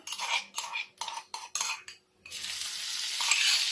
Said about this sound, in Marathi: थोडं राई आणि जिरं दोन्ही टाकून घेऊया आपण हिंग टाकायचंय आणि ही मिरची आपण कुटून घेतली ना ही टाकून घेऊया